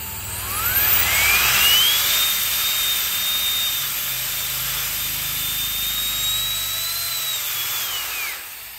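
A jet fan built from metal and plastic spins at its 130,000 rpm full speed, giving a loud, steady high-pitched whine that climbs at the start, holds for several seconds and drops away near the end.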